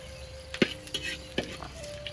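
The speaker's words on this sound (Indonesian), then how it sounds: "Iki jahe sedikit digoreng dulu" Fresh ginger frying in a pan for a traditional village eel dish, with a soft steady sizzle broken by a few sharp clatters from stirring.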